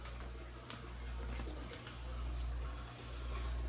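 Liquid pours steadily into a cooking pot during a home cooking session, a continuous splashing, gurgling flow with slight swells, fairly quiet and without speech.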